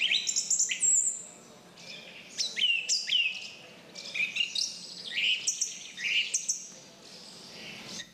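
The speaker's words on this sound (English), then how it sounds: "Pierre-Laurent Aimard played Olivier Messiaen's Catalogue du Oiseau with an actual bird song, a motif of the score." Real birdsong, recorded to accompany a piano performance of Messiaen's Catalogue d'oiseaux, sounds as bright repeated chirps and whistled phrases in bursts over about eight seconds, clear and fairly close against a quiet background.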